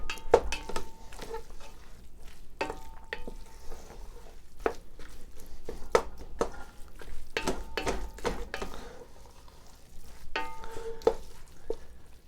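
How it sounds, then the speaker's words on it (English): Repeated clanking and scraping of a utensil chopping sticky rice in a pan, irregular taps and knocks continuing throughout at moderate volume with no talking. "you gotta chop it up a bit. Takes a bit of chopping"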